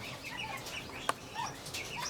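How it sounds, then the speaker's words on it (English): A chicken in an aviary holding pheasants and quail gives soft clucks amid other faint bird chirps, with one brief sharp call standing out over a steady background hiss. "There's one chicken in there."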